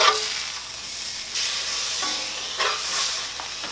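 Burgers sizzle on an extremely hot cast iron surface at a midwest BBQ, a loud, steady, close hiss that swells briefly now and then, with no talking.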